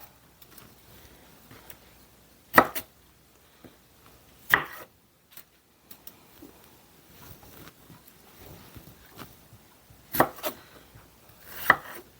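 Vegetables are chopped on a cutting board in a home kitchen while making roasted tomato soup and beef stew. Sharp knife strikes come irregularly, a few loud and close, over quieter tapping and handling.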